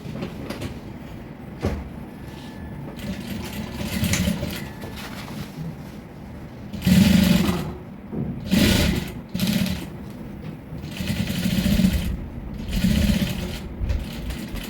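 A sewing machine stitches a rope tote bag in bursts of motor hum, several short runs starting and stopping with pauses between them.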